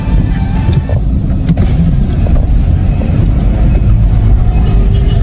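A car engine rumbles close and loud on a city road, a steady low drone with wind buffeting the microphone throughout.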